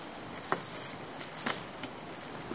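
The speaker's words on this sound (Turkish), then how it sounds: "Ama ve lakin yağmur da var." Light rain pattering on a mountain trail along the Lycian Way, a soft, quiet hiss with a few sharper, isolated drops landing nearby.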